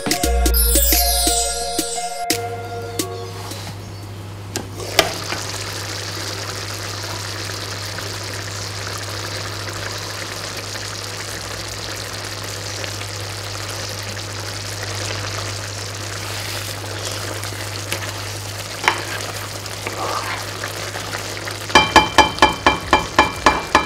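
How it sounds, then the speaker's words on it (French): Shrimp coconut curry simmering in a pan gives a steady soft sizzle and bubbling hiss that runs throughout, with a few brief clinks and stirring knocks near the start and again toward the end, no talking. "On va laisser notre recette mijoter"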